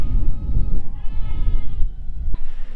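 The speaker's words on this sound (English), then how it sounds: "I think there's just a handful of ewes with lambs left in the barn." Sheep bleat in a barn where a few ewes with lambs remain. Several loud, close, wavering calls overlap across a few seconds, with no talk.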